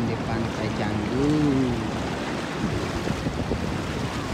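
Ocean surf washes onto Canggu's Echo Beach in Bali, a steady broad rush of waves mixed with wind buffeting the microphone, with a brief murmur of voices partway through.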